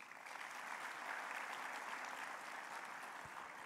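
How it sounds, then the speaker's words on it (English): Sustained audience applause for the president at the opening ceremony of a smart city forum, a dense, even wash of many hands clapping. It holds steady and fills the room throughout. "vos applaudissements pour Monsieur le Président."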